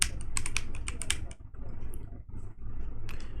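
Fast keystrokes on a computer keyboard, a close run of crisp clicks in the first second or so, then a few softer, scattered taps over steady low background hum.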